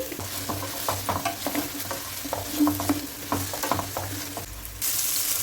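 Thinly cut bitter gourd slices fry in hot oil with a constant close sizzle, and a spatula stirs and scrapes through them in irregular strokes; the frying noise jumps louder near the end.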